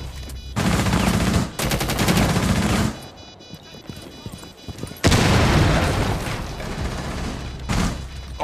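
MPX gunfire in Rainbow Six Siege comes as loud, rapid automatic bursts, one long volley, then quieter shuffling, then another sustained burst and a short final one.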